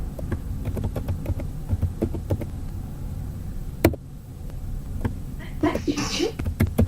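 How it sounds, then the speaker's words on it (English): Someone types on a computer keyboard during a yoga lecture, giving a steady run of close, quick clicking keystrokes with a short pause midway and a brief burst of other noise near the end. "I am going to type it here"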